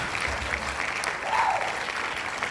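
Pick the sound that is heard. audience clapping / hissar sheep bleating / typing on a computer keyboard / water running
audience clapping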